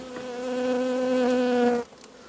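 A honeybee colony wintering on a single frame in February, under foil over insulation, gives off a steady close harmonic buzz that holds evenly before cutting off sharply near the end.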